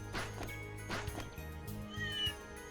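A cat in the video game Trails Through Daybreak meows several times in quick short calls, close and clear over a low sustained game music bed.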